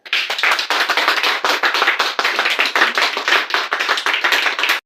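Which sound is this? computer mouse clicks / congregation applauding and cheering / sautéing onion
congregation applauding and cheering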